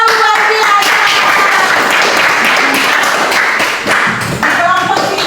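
A classroom of students claps and applauds together, a dense, loud, sustained patter of hands close by that continues throughout, with voices faintly mixed in.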